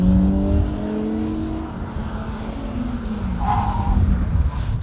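A Talbot Sunbeam Lotus rally car passes on a stage at the Colin Ellmore Memorial Rally, its engine loud and close, rising and falling in pitch as it drives by, with no talking.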